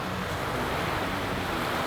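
Waves washing on Lake Winnipeg, heard as a steady, broad wash of surf and wind noise throughout with no voices, fairly faint.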